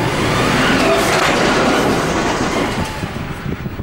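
Freight train of container wagons at a loading terminal, a loud continuous rumble with wheel clatter and rolling noise that eases slightly toward the end.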